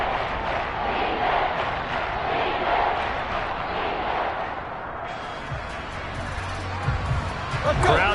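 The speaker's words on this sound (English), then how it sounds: "Crowd getting in it a bit already." A stadium crowd in the football video game Madden 23 roars and murmurs steadily throughout, with thumps and game sounds rising near the end.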